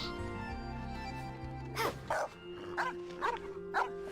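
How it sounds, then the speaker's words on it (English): A dog barks in the video game Genshin Impact, five short barks in a steady series over an ongoing game background score. "Can't pet dog."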